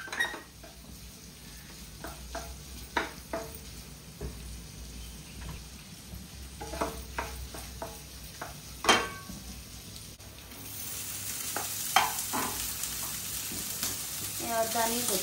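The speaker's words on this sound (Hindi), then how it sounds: "तेल सुट्टेला कडेन सुट्टलें" Food frying in hot oil in a home kitchen, a steady crackling sizzle with scattered pops and stirring clinks, growing louder near the end, while someone speaks over it.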